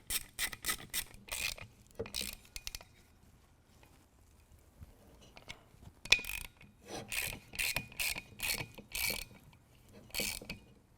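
A ratchet wrench with a 14mm socket clicks in quick bursts of rapid pawl ticks while tightening a bolt on a lifted truck, with short pauses between strokes, close and alone.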